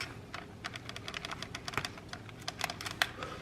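Blunt scissor tips poke holes in the plastic film over a packaged diced beef tips meal, making a rapid series of close, light tapping and crinkling clicks.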